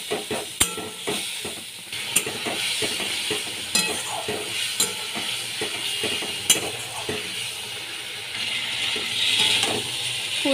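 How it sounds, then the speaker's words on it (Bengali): Cauliflower and potato curry with tomato, green chilli and ginger sizzles steadily in a pan while a spoon scrapes and stirs in irregular clanks, close and loud, with no talking. "এবারে আদা দিয়ে ভালো করে কষিয়ে দিচ্ছি।"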